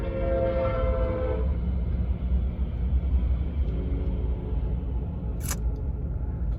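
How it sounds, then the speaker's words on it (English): A train horn sounds with a sustained tone over heavy rolling rumble of rail cars passing close by, followed by a sharp click. "Sorry for the noise, guys."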